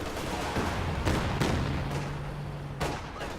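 Incendiary artillery barrage in a strategy video game, several sharp booming impacts roughly a second apart over a dense crackling rumble, loud and close, with no talk.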